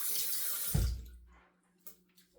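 Tap water running briefly while a razorock Daily Groove safety razor is rinsed at a sink, a steady hiss that cuts off after about a second, followed by faint clinks.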